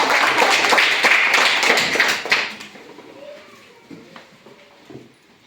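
Schoolchildren clap together in a primary-school classroom during a quiz, a loud burst of applause lasting about two seconds before it fades into scattered taps and quiet room noise.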